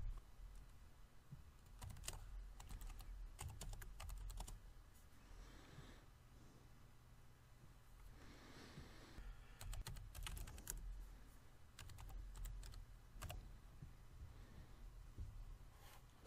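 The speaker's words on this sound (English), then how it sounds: "I'll type in my line of text" Typing a line of text on a computer keyboard, a run of quick, faint key clicks in irregular bursts over a low background hum.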